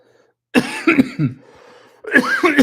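A burst of harsh, close coughing, several hacks in a row, then a pause before another rough coughing fit.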